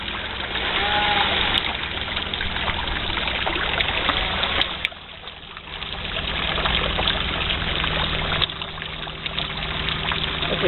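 Water trickles and splashes steadily close by from an old-style fountain, a continuous bubbling flow that dips briefly midway before resuming.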